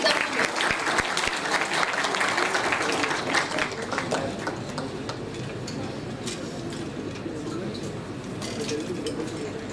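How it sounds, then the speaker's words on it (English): Conference audience applauds a speaker stepping on stage at an academic technology event, with sustained dense clapping that slowly thins out over about ten seconds. "A huge round of applause for Dr. Datin Norazida Muhammad"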